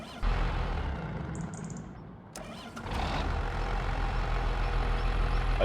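An older 275-horsepower tractor, low on fuel, churns through a cranking engine sound, a brief hiss and clatter, then catches and settles into a steady loud rumble.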